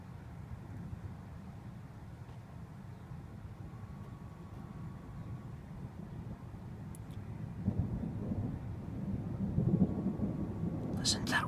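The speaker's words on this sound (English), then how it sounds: "Listen to that rumble." Thunder from a tornadic thunderstorm over Mississauga, Ontario: a low, distant rumble rolls on continuously and swells louder toward the end, with faint rain-like hiss and quiet voices nearby.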